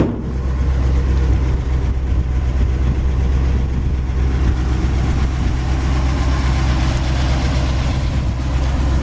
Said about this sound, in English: As far as the engine goes, it runs really nice and quiet.